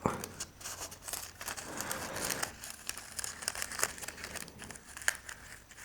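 Continuous crinkling and rustling of a thin nail art foil sheet being handled up close, with irregular sharp crackles throughout.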